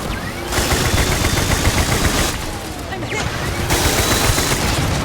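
Rapid, dense gunfire in the video game Starfield, with sustained bursts of automatic shots and brief lulls, loud and continuous across the whole stretch.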